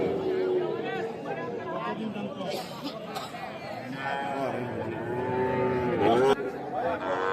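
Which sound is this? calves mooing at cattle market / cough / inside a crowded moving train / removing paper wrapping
calves mooing at cattle market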